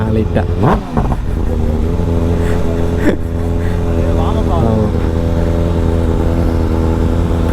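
The engine of a Triumph RS765 or BMW M1000RR superbike runs close by with a deep, steady throbbing idle. Brief revs and rising whines cut in near the start and middle, and a voice speaks over it.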